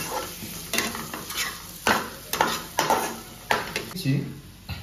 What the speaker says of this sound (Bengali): বেশি না, কম করে দিয়ে আবার ওটাকে একটুখানি মিক্স করে নিচ্ছি।